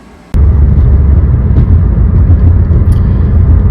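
A car just repaired with wheel nuts torqued to 159 foot-pounds starts moving on a test drive, a loud, steady low engine and road rumble kicking in abruptly after a quiet start and holding evenly, with no voices.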